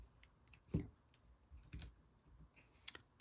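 Scissors trimming the end of a ribbon bow for a handmade card, a few quiet, sharp snips spaced about a second apart in a quiet room.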